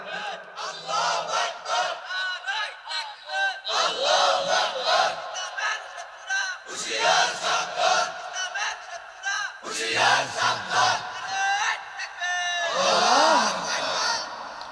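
A large crowd at a religious rally chants slogans in loud, rhythmic call-and-response bursts, with a leader's shouted lines between mass replies, close and echoing.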